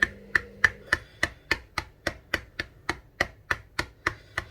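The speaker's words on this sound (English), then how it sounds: "pierce eggs yolk and white numerous times" A utensil pierces egg yolk and white inside a plastic microwave egg holder: about fifteen sharp, evenly spaced taps in a steady rhythm, close and clear with no talk.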